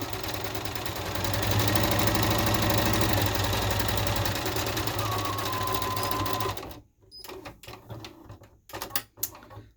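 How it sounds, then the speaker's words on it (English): A sewing machine runs a line of stitching down the top of a scrub hat, a steady close mechanical whir lasting several seconds, then stopping into a few scattered clicks and handling knocks. "I'm going to run a stitch down the top."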